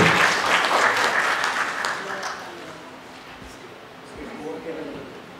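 An audience at a book launch event welcomes a new women's happiness centre initiative with strong applause that starts loud and dense, then fades to scattered claps before a voice begins speaking.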